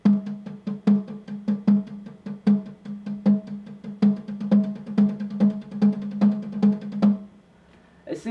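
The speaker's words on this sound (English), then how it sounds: "The stroke that we are going to learn today is called paradiddle, which is that you are combining the single and double strokes for both hands." A drum paradiddle played fast on a snare, a steady run of crisp sticked strokes in alternating single and double groupings, close and alone, ending in a short pause.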